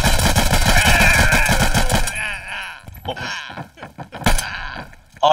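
Rapid automatic gunfire from the online shooter Hired Ops, a dense loud burst in the first two seconds followed by scattered shots, clatter and in-game effects, with a voice talking briefly.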